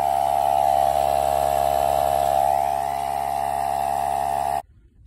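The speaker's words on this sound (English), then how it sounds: "you're going to want to add some air pressure in it" An air compressor or pump hums steadily and loudly up close while filling a tire with air to find leaks, a continuous droning tone that cuts off abruptly near the end, with no talk.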